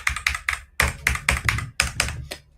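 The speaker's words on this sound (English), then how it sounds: "That's the Arakirsa keys going up and down on its own again now." A computer keyboard whose keys move up and down on their own, giving loud, close clusters of clacking taps in irregular bursts with short pauses between them.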